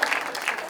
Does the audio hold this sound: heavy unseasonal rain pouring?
no